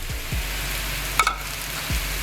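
Mushrooms dropped into avocado oil and butter in a pan for a Philly cheesesteak, a steady close sizzle with a few soft thumps and a brief metallic clink in the middle.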